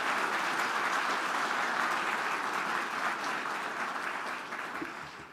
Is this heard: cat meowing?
no